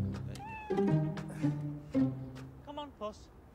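Cat stuck up high meowing in a few drawn-out, rising cries, close and clear, with a voice and other talk mixed in around the calls in a cartoon rescue scene.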